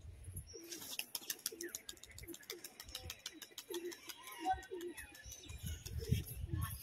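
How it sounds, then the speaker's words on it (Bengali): Pigeon cooing in a repeated low, rhythmic series of soft coos, faint and close, with clicking noises and some quiet voices in the background. "প্রচন্ড অ্যাগ্রেসিভ পায়রাটার চোখটা দেখুন আপনারা।"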